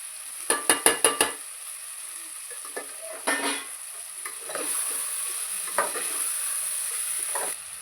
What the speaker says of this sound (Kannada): ನಾನು ಈಗ ಪನ್ನೀರ್ ಹಾಕ್ತೀನಿ ಸ್ವಲ್ಪ ಫ್ರೈ ಆಗಬೇಕಲ್ಲ